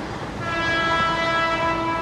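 A train runs along the busy railway line through the village of Church Fenton in Yorkshire, a loud steady rumble with sustained horn-like tones swelling as it passes close by.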